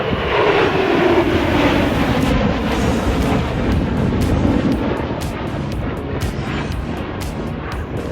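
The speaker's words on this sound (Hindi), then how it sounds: "MiG-21 विमान गुजर रहे हैं।" MiG-21 fighter jets fly past in arrow formation at an Indian Air Force event, making a loud, sustained jet roar that fills the whole clip and fades slightly toward the end, with no talking.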